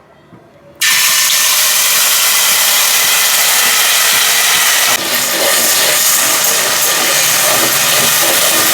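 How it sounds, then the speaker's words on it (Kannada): Spice masala hits hot coconut oil in a village kitchen and bursts into a loud, sudden sizzle, then a steady, close hiss of frying that continues without a break. "2 ಸ್ಪೂನ್ ಮಸಾಲೆ ಎತ್ತಿಟ್ಕೊಂಡಿದ್ನಲ್ಲ ಅದನ್ನು ಇವಾಗ ಎಣ್ಣೆ ಒಳಗೆ ಹಾಕ್ತಾಯಿದ್ದೀನಿ"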